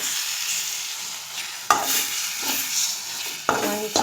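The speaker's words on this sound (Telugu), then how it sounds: "ఆకు వేపుడులో గుడ్డు ఇదిగో ఇలా చూడండి, కొట్టి పోసాను ఎగ్గు." Beaten egg frying with amaranth leaves in a pan, a continuous soft sizzle broken by a few sharp scraping stirs of the spatula.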